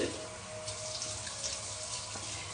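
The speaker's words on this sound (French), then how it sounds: "Donc maintenant, je rince, ok?" Tap water runs steadily into a bathroom sink while a face is rinsed, a continuous close hiss with no talk.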